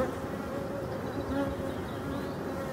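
A dense, continuous buzz of many honeybees swarming around an opened, heavily populated beehive, close and steady with no talk over it.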